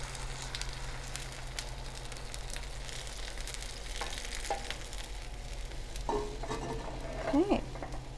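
Eggs and green spring veggies cooking in an oven-safe frittata pan give a soft, steady sizzle with faint stirring and occasional scrapes, fairly quiet and continuous throughout.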